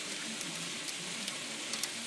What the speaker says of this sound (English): That's hail.